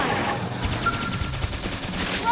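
Loud, rapid gunfire rattles off in a dense continuous volley in the video game Xenoblade Chronicles X, shots overlapping in quick succession.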